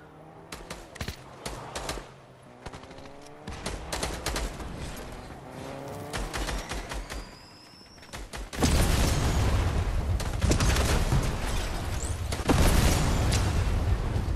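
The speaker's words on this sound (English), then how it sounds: "I hear a lot of explosion out here." Dense, continuous rumbling blasts and crackling booms from the video game Fortnite, loud and chaotic, intensifying partway through into a heavy wall of explosions.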